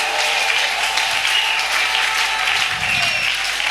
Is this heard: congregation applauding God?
yes